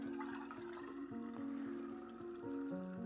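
Cold brew coffee pours out of a Tupperware container in a continuous splashing, trickling stream with a hollow gurgle, close and steady for a few seconds.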